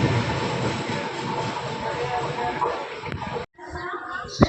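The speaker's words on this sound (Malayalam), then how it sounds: "ഒരു വണ്ടി വരുന്നുണ്ട്." Train pulling into a railway platform on the Ernakulam–Kanyakumari route: a steady rolling rumble with rattling carriages, fairly loud and continuous, briefly cut off near the end, with faint voices around.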